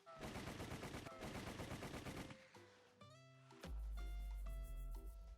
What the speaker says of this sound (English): so you just keep shooting